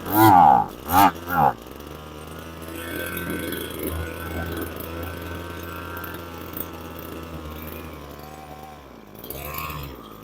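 A two-stroke brush cutter engine revs sharply a few times, then runs on at a steady, buzzing idle until it sputters near the end as the last of the fuel mixture burns out.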